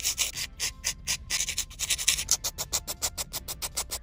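Polygel nail tips are filed and reshaped with a rapid rhythmic rasp, steady back-and-forth strokes close up with no talking.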